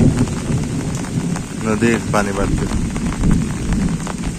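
Steady rain pours down beside a swelling river, a dense, loud hiss that continues throughout while someone speaks briefly over it.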